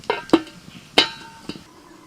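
A lid is set on a cooking pot of bottle gourd simmering in milk with fried cashews and raisins, giving four sharp metallic clinks and knocks close by.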